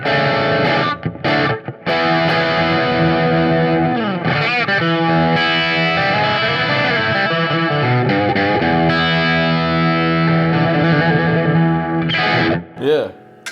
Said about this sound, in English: This is a Japanese-made Les Paul style electric, and we're going to start on the dirty channel